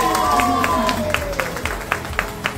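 An audience at a Marathi baby shower ceremony claps during a guessing game. The applause is scattered and fairly soft under a steady hum of crowd noise, with a few sharper claps standing out toward the end.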